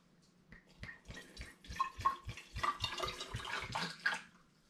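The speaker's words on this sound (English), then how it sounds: "Now I need to pour some of this into my hydrometer tube to check the original gravity." Homemade fruit pastille turbo cider poured into a hydrometer tube, a quiet close trickle with glugging pulses and small splashes building over a few seconds.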